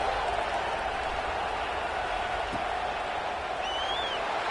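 A football stadium crowd roars steadily at kickoff in a game against Georgia, a dense, distant wash of cheering that holds level throughout with a faint whistle near the end.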